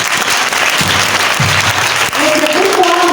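Brisk applause from the audience at a literary evening for a publishing house's first edition, a dense burst of clapping that stays close and steady for a few seconds, with low musical tones surfacing near the end.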